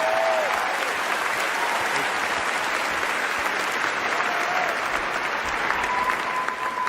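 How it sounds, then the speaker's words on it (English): Sustained audience applause fills a large hall at the Game Awards, a dense steady roar of clapping throughout, with faint crowd murmur underneath. "let's give a big round of applause to these two guys for the great circle"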